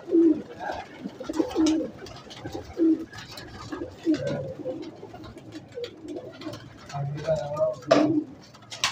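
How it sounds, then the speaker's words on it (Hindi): Pigeons in a loft coo repeatedly, soft throaty rolling calls from several birds close by, with a voice talking intermittently underneath. "ये मेरा सबसे बहादुर कबूतर है कोटे में"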